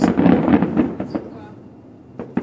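Fireworks and large firecrackers at a Carcassonne display crackle and pop in a rapid, dense cluster, then thin out to a few scattered sharp bangs, with voices faintly mixed in.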